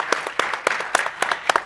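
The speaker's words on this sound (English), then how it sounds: "We want to give them a round of applause and say thank you so much for enabling this to happen." A crowd at an annual report launch gives a short round of applause, distinct individual claps standing out in a brisk, uneven rhythm close to the microphone.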